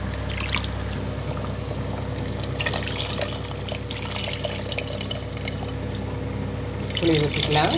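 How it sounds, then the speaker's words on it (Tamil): Tamarind water pours into a pot of black pomfret fish broth on the stove, a steady liquid trickle running beneath a continuous hum of kitchen noise throughout. "புளி ஊற்றிக்கலாம்."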